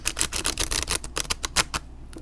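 A Sufi Tarot card deck is shuffled up close, giving a rapid, papery riffle of overlapping card flicks that trails off into a few separate snaps before stopping.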